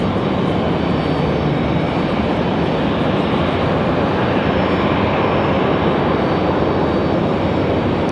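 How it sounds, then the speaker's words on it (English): An Aer Lingus Airbus A321 airliner departs an airport for Dublin, a loud, continuous broadband jet-engine roar that holds steady and close throughout. "Aer Lingus back to Dublin. The A321."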